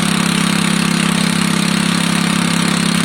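A van engine idles steadily on choke just after starting on a fitted battery, a loud, continuous mid-pitched drone with an even rhythm and no talk over it.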